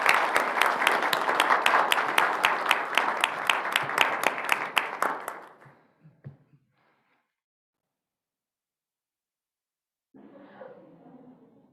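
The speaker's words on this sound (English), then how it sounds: "Let's have a round of applause for our girls cross country team." Applause breaks out at a school board meeting for the girls cross country team, a dense clapping crowd for about five seconds, then cutting off to near silence before a voice starts talking.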